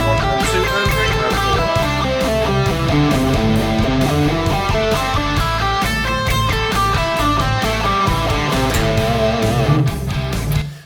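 Guitar runs up and down the first minor pentatonic box shape in steady eighth notes, a continuous even stream of notes over a thick low backing, without talking, fading at the end.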